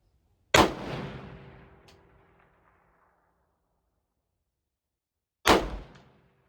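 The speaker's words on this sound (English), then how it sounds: "we'll shoot out to there to about 500-ish" Two loud rifle shots ring out at a shooting range, about five seconds apart, each a sharp crack trailing off in a long rolling echo over quiet.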